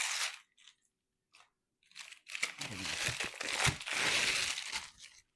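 Parchment paper peeled and crumpled off a firm tray of three-ingredient peanut butter oat bars, giving close crinkling and crunching rustles in short bursts, then a longer busy stretch.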